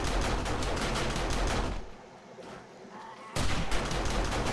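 Automated base turrets in the 7 Days to Die video game fire rapid, dense bursts at a zombie horde. The shooting breaks off for about a second and a half, then resumes just as loud.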